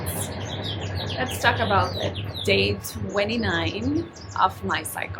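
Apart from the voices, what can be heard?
bird chirping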